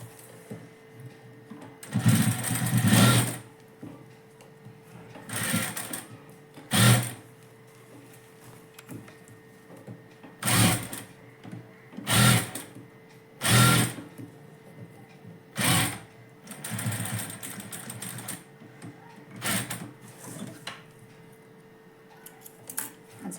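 A sewing machine stitches a blouse in short separate bursts, each a second or so long, with quiet pauses between runs and a faint steady hum underneath.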